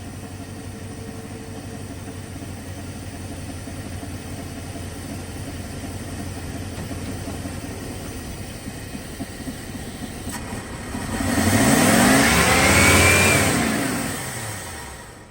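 An abandoned 1979 Cordoba, pedal stuck down, goes into reverse. The engine hums low at first, then roars in a loud, rising rev near the end that sweeps up and falls back.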